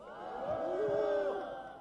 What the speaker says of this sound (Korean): 함성 부탁드리겠습니다.